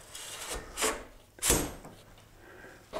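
A file rasps across the rakers of a crosscut saw held in a vise, in a few separate strokes, close and fairly quiet, with brief gaps between them and no voices.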